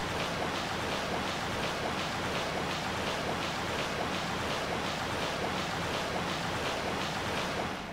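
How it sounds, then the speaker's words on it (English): Loud rushing water in the Resident Evil Dead Aim video game, a steady broadband wash with a faint rhythmic pulsing that stays even and close throughout, with no voices. "Water is very loud."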